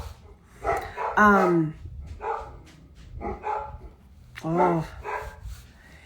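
Several dogs bark and yip in short bursts at mid distance, with a couple of louder whining barks standing out, while a person talks quietly in the same room.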